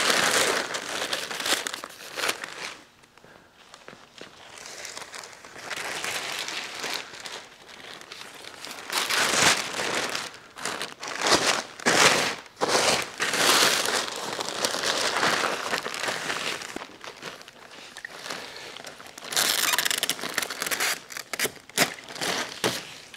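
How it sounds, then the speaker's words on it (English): Paper moving pads are folded up and over a flat-screen TV, crinkling and rustling loudly in repeated bursts with brief pauses between folds, close to the listener. "And we could fold the paper pads up and over."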